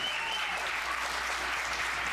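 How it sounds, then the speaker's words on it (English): Applause from the audience at a school board of education meeting after young students present their projects, a brief, steady spell of many hands clapping in a room, moderately distant. "Can we give them another round of applause for their awesome work?"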